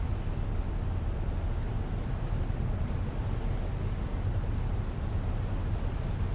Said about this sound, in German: Da haben wir doch ein paar höhere Wellen.